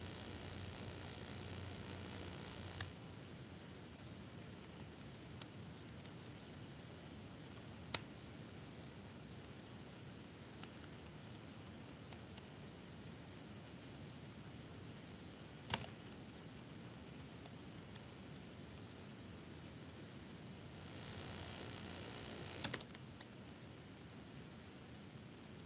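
Several people typing on computer keyboards in a classroom setting, a steady faint patter of keystrokes throughout with a few sharper isolated clicks, quiet and with no talking.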